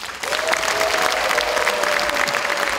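Sustained applause from a large audience at a Democratic Party delegates' convention in Daejeon fills the hall, dense and steady throughout, with a faint tone running underneath.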